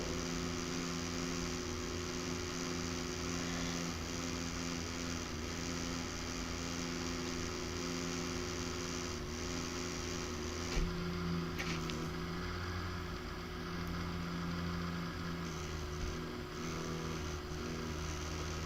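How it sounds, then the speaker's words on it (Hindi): A PC cooling fan produces a steady, broadband whir with an underlying hum, constant and moderately quiet throughout, with no speech over it. "ये असल में मेरे पीसी का जो फ़ैन है"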